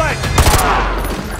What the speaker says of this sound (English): Roach, take the shot.